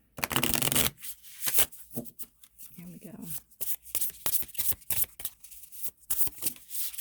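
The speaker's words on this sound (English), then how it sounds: "pull love card for you guys." Tarot cards are shuffled in a long riffling burst, then pulled and flicked down in a series of quick papery snaps and slides, close-up, with a voice speaking in between.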